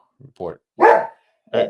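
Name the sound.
dog barking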